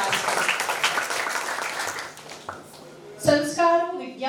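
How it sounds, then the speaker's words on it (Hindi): Applause from an audience at a Dr. Vikram Sarabhai birth anniversary celebration in a physics department in Ujjain, a dense steady patter of many hands lasting about three seconds before giving way to a voice that starts speaking. "पुनः एक बार जोरदार तालियों से इस कार्यक्रम का आगाज करें।"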